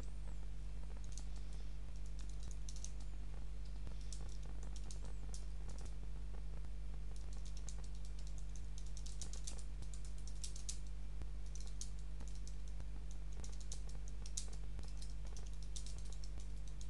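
A computer keyboard is typed on in irregular bursts of quick clicking keystrokes, moderately close, over a constant low electrical hum.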